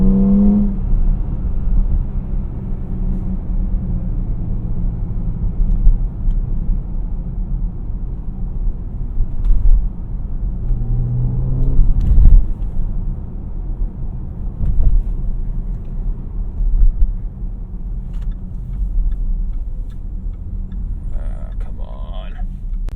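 Cabin view from a 2017 Jaguar F-Pace R Sport driving in sport mode, with a loud steady low engine and road rumble, small swells as it accelerates, and a faint voice inside the car.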